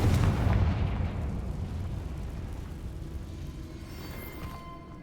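A Confringo fire spell bursts in Hogwarts Legacy with a heavy booming blast at the start, then a long rumbling decay that fades steadily over several seconds, with no talking.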